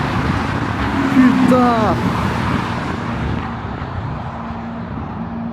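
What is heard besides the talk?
McLaren and Ferrari cars passing by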